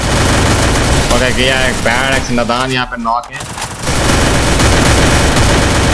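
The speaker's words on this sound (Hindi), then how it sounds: "बट गोलियां चलाई जा रहे हैं" Loud, rapid gunfire from a battle royale video game, with bursts of automatic shots throughout and someone talking excitedly over the shooting.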